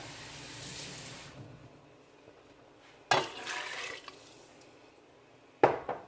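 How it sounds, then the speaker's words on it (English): Water pours into a pot of rice and coconut milk in two short bursts, each a sudden splashing gush that quickly tapers off, with quiet gaps between and no talking. "I'm going to add an half a cup of water."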